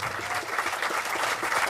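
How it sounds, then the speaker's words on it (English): A warm round of audience applause at an awards event, a short, steady burst of dense clapping heard from within the crowd. "if you will give him a warm round of applause"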